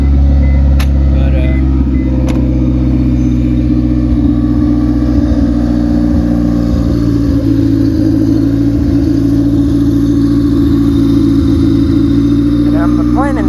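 A car engine with an open header and a new MPFI swap idles slightly high, loudly and steadily with a deep, rumbling open-exhaust drone, close by and continuous.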